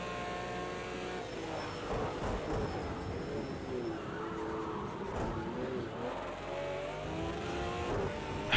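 Race car engine in Project CARS 2 drones and revs steadily throughout, with rising and falling pitch sweeps as the driver modulates the throttle through corners after sliding, loud and continuous with no talk.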